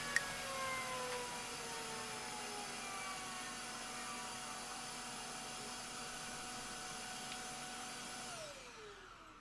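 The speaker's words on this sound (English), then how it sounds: "Forgot to turn the vacuum off earlier." A vacuum cleaner drones steadily at close range with a high whine, running without pause until its motor winds down near the end.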